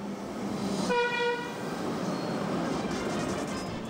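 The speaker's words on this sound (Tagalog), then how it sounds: "Pagsakay ng mga pasahero ng LRT1 bukas, baka matsyempohan nila ang isa sa mga bagong tren ng LRT na pinasinayaan ni Pangulong Bongbong Marcos" A new LRT-1 light rail train in Manila runs along the track with a steady rumbling roar, a short horn toot sounding partway through, with no talk heard.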